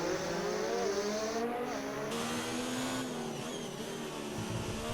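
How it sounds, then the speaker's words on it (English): Race cars in a racing video game set on the Baku circuit whine past, a continuous high engine drone with rising and falling pitch as cars sweep by, faint and steady. "I ain't listening to no cars whistle by."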